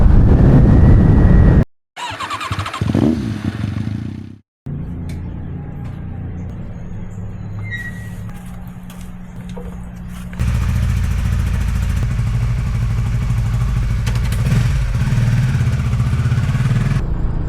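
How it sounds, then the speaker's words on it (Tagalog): A motorcycle rides along a road in rural Casiguran, its engine a steady, fairly loud drone that cuts out briefly near the start, then runs with rumble and clatter, growing louder in the final stretch. "Grabe, ang sarap magmotor dito"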